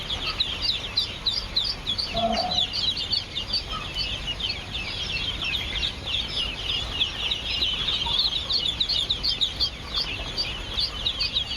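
A brood of Peking duck ducklings peeps continuously in a brooder, dense overlapping high chirps forming a constant chorus, close and fairly loud.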